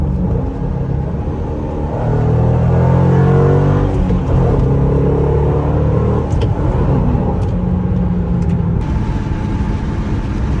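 A Ford 3V-engined car driving with the windows down, its engine rumbling steadily and swelling into a stronger revving acceleration partway through, close and continuous with no talking.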